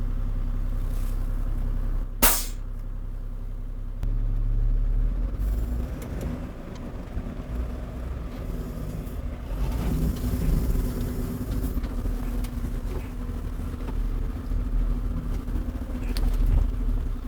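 An IVECO Eurocargo 4x4 truck rolls down a small descent in second gear, its engine droning low and steady with a sharp clunk early on and a rumbling cab ride throughout.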